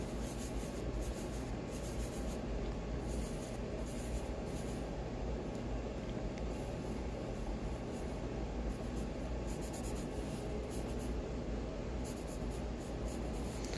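Pencil sketching on paper, a continuous close scratching and rubbing of graphite strokes, steady and fairly faint, with no talk.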